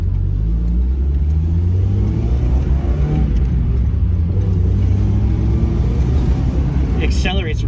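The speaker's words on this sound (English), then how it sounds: "It accelerates really nice." A Mazda Miata with Dynamat sound deadening on the floor accelerates on the road, its engine a steady loud rumble from inside the cabin that builds throughout, with a brief light rattle near the end.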